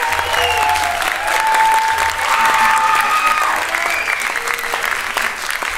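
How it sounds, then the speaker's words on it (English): Sustained audience applause at the close of a winter concert program, a dense wash of many hands clapping loudly and steadily throughout, with faint voices mixed in. "if you clap loud enough"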